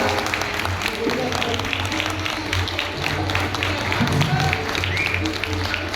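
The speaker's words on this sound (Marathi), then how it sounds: "मला तर असं वाटतं की आपण सगळं उभं राहून आपण टाळ्या वाजवायला पाहिजे" Audience at a one-act play competition event breaks into sustained applause, a dense wash of clapping from a large crowd filling the hall, with talk running through it.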